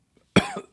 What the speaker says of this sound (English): Sorry, can't stop coughing.